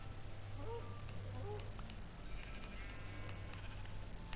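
Minecraft sheep bleat faintly in short wavering calls, two or three in quick succession early on, over a steady low game hum and background noise.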